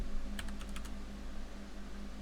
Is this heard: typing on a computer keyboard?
yes